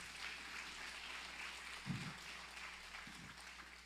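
A church congregation applauding during a sermon, heard as a faint, steady wash of distant clapping with a couple of brief low thumps, under a quiet, even background hum.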